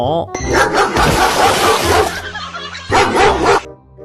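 A dog barks and yelps loudly in two bursts, agitated and close, with short whimpering tones between.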